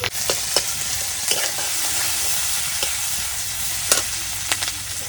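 Fish pieces and sliced onion frying in hot oil for a fish-head ghonto, with a steady loud sizzle broken by several sharp scraping stirs of a utensil in the pan.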